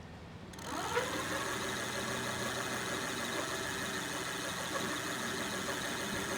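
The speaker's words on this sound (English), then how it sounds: "you put your pedal assist all the way to 5 and you hit this throttle" A Velotric GO 1 cargo e-bike, pedal assist at level 5, spins its hub motor at full throttle while propped on its kickstand. A steady, close electric whir rises in after a brief start and holds level to the end.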